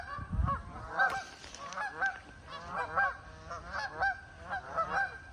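Geese honk repeatedly from a river while a playful dog chases them, the calls coming in rapid overlapping bursts at moderate distance, with a low thump early on.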